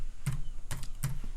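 Three separate key presses on a computer keyboard while a value is typed into design software, each a short soft click spaced evenly apart, close and quiet with no talk.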